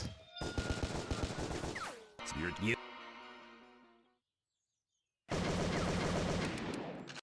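Gunfire in the game Urban Chaos, dense rapid shots in loud bursts, broken by a tonal passage and a short silence before another heavy volley.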